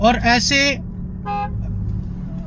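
A car horn, pressed by accident, gives one short, clear toot right after a man's speech, followed by a quiet hum of the car.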